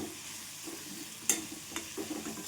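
Green chilies fry in a pan with a low, steady sizzle, broken by a few short clinks and scrapes of stirring.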